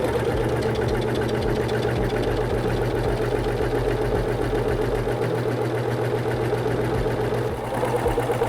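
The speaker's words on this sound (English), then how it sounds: "place your fabric under the presser foot, lower the presser foot, and step on the foot control to begin sewing" A SINGER S0230 serger runs steadily at speed, sewing a wide three-thread overlock stitch through fabric with a dense, continuous mechanical whir and rapid knocking chatter that stays loud throughout.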